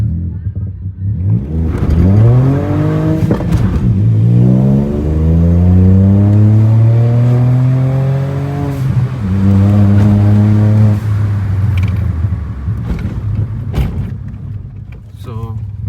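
Remapped Volkswagen Polo race car with a full system exhaust accelerating hard through the gears, its engine note climbing in long loud sweeps with brief shift breaks, close and continuous for about fifteen seconds.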